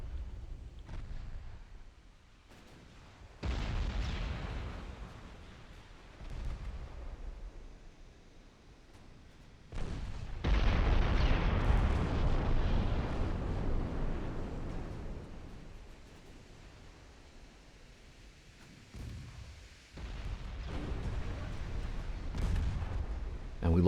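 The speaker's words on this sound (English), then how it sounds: "Torpedo hit on Suprema. Followed by a flash fire." Warship struck by a torpedo and then caught in a flash fire in a 1913 French naval campaign game, heavy rumbling blasts in several long surges, the strongest a sustained roar midway, with a voice talking over parts.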